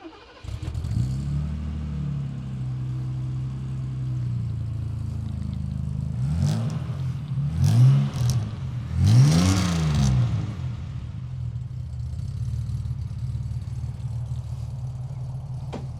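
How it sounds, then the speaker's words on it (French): A 1982 BMW E28 with a six-cylinder engine idles on a road test, then revs sharply two or three times in quick succession before settling back to a steady hum, close and loud. "J'adore ce bruit de 6 cylindres,"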